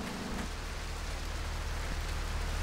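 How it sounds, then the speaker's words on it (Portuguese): Steady rain falls in GTA Trilogy with the Classic Atmosphere mod, an even hiss of drops with a low rumbling bed, continuous and uniform from start to finish. "A chuva já vai parar a qualquer momento."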